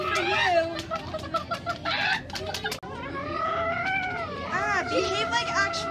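Game-style chicken clucks and squawks come in quick, uneven bursts, with a continuous background tone running underneath.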